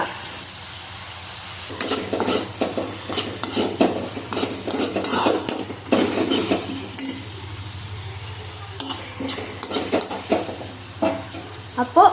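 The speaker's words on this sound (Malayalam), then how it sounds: "ഇളക്കി ഇതിനെ അടച്ചു വെച്ച് വേവിക്കുക" Utensil scraping and clinking as banana stem stir-fry (thoran) with turmeric and salt is stirred in a pan, a steady run of close, irregular clatters over a low background hum, with no talking.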